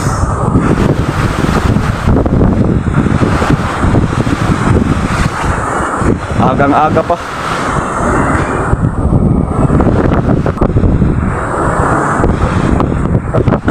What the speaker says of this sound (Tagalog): So yun ang mga alon guys